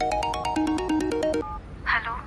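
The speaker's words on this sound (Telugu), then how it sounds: "ఆ ఫోన్ చూడు. అరే ఐశ్వర్య ఫోను అదిగో." A mobile phone ringtone plays a bright, repeating melodic pattern of quick pulsing notes for about a second and a half, then stops; a short voice is heard afterward.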